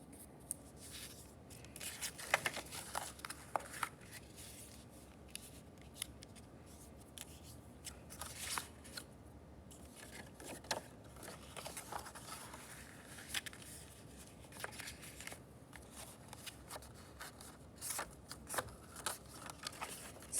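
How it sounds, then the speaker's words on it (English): A paper template for a Gothic-style building is folded by hand, producing faint, close creasing and rustling with scattered soft crinkles and taps over a quiet room. "Making sure we're folding it very carefully."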